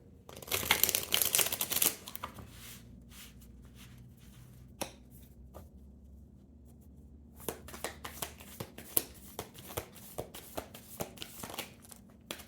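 Tarot cards are shuffled close by: a dense riffling burst at the start, then scattered crisp card snaps and taps at irregular intervals, with no talking.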